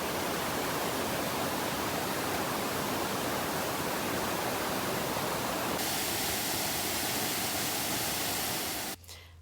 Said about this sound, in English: Glenariff has lots of waterfalls on the walk